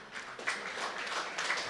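Steady, moderately soft applause from the crowd at a golf tournament closing ceremony at Cosmo Golf Club in Chennai.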